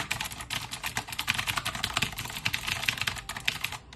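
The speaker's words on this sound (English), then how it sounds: "I like the sound of the keys." Rapid, steady typing on a colorful backlit computer keyboard, with clear clicky keystrokes close by and no voices.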